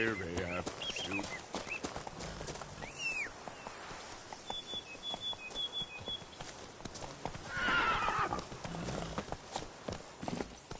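Horse in a PS4 video game gallops with rapid clip-clop hoofbeats, a whinny rising near the start and another cry later, over busy game music and ambience with a voice talking.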